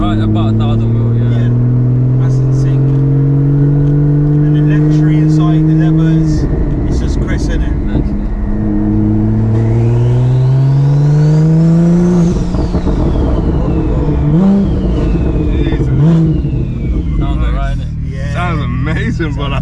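A 1500 hp Porsche 911 Turbo S engine revs hard through rising gear pulls, loud and close, with shifts and repeated surges of acceleration as people talk over it.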